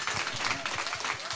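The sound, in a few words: congregation applauding in church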